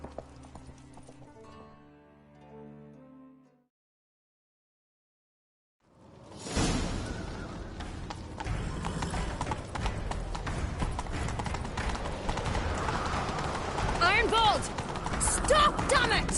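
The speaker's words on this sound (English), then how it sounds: "Grab a horse, we'll chase him down." Horse hooves gallop in a fast, continuous clip-clop with rushing wind in the video game The Witcher 3: Wild Hunt, loud and up close after a short quiet gap following soft music.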